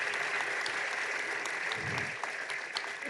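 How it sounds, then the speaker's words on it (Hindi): Steady audience applause at a Jain spiritual discourse in Shirpur, many hands clapping together at an even level from start to end, with a brief low murmur partway through. "हम इन तालियों से आपकी पसंदी का कभी भी विचार नहीं करते"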